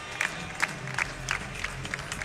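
An arena crowd cheers at a FIBA 3x3 AmeriCup 2023 basketball game, a dense roar broken by regular rhythmic bursts of clapping or chanting, with no talk over it.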